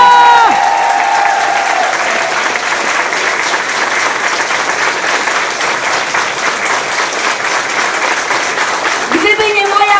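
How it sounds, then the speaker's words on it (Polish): Loud, sustained applause with cheering from a concert audience, a dense roar of clapping filling the hall; a host's voice is heard briefly at the start and again as the clapping ends. "Wielkie brawa!"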